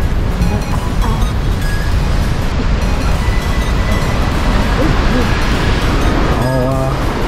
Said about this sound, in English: this is a pretty crazy waterfall